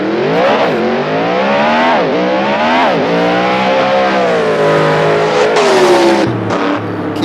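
A 1967 drag racing car's engine roars up through the revs in repeated loud, rising pulls, each climb dropping back before surging again, with a rough, harmonic-rich tone close by and no talk over it.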